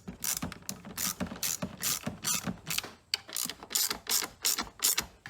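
Bolts being tightened on a CFMOTO i45 4500-watt generator during a gas-to-propane conversion, with a tool giving quick repeated ratcheting clicks in steady bursts, close and fairly loud, with no talking.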